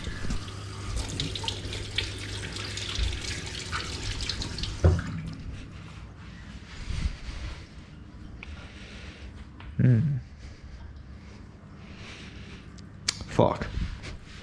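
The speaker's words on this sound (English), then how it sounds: "Let me wash my hands" Tap water runs steadily into a sink while hands are washed in a home kitchen, a broad continuous wash with a few sharper knocks and splashes, and a voice speaks briefly over it.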